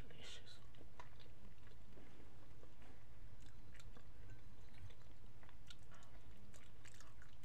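Someone eats macaroni and cheese up close, with soft wet chewing and biting sounds over a steady low hum that run through the whole stretch.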